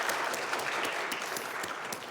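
A church congregation applauds its choir and orchestra after worship music, producing a brief, even wash of many hands clapping at moderate volume, slightly distant and dying down toward the end.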